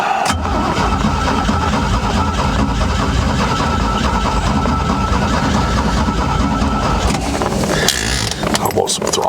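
A 1969 Spartan 155 hp outboard engine with electric shift is cranked and runs after sitting unused for 25 years, producing a loud, steady, rough engine drone under occasional voices, with clattering near the end.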